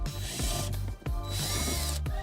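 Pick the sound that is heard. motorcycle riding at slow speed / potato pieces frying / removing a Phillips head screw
removing a Phillips head screw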